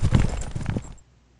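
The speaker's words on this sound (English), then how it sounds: "Let's listen to the human knight horse loop" Game hoofbeat loop for a human knight's horse, a quick run of close clip-clop hoof strikes that cuts off abruptly, leaving near silence.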